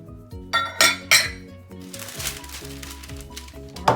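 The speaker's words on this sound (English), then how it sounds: "now we're going to lay it on a baking dish" Clattering and clinking of a baking dish being handled in a kitchen while making strawberry pretzel salad, with several sharp metallic knocks and ringing pan tones.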